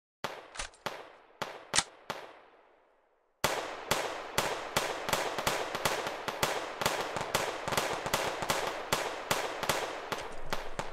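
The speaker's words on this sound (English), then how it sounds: "I give off some rounds" Gunfire in BattleBit Remastered: several sharp separate shots with short echoing tails, a pause, then a long rapid burst of evenly spaced loud cracks, close up and with no talk.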